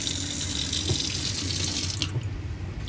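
Water runs from the kitchen tap of a 1978 Millard Mini Pop caravan, a close, steady gushing splash into the sink that eases off and changes tone near the end.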